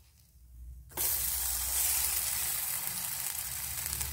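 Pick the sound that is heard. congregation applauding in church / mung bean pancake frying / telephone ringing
mung bean pancake frying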